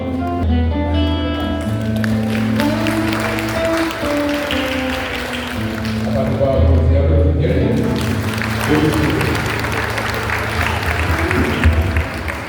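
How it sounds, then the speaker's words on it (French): Wedding guests at a nuptial ceremony break into applause for the couple's sacred union; a voice and tonal sounds open, then broad, sustained clapping fills the room, mixed with lingering voices. "je vous demande de bien vouloir manifester votre joie à cette union sacrée par vos applaudissements"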